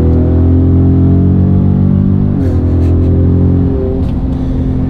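A second-generation Ford Raptor truck with a 1FG aftermarket exhaust drones loudly from inside the cab, a deep steady engine tone that shifts pitch as it changes gear, with light whistly turbo noise above it.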